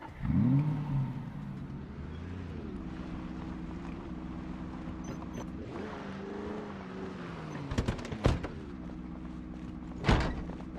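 A Hummer engine in Project Zomboid revs up, then holds a steady droning hum that shifts pitch as it accelerates, with a few sharp clanks and knocks over the engine noise.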